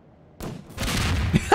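Rapid bursts of SMG fire in a Garry's Mod round, loud and close, starting partway in and rattling on steadily to the end with no talk over it.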